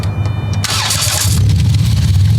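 A 2009 Chrysler Town & Country minivan engine cranks and catches, a burst of starter noise giving way to a loud, steady low rumble close by, with no voices over it.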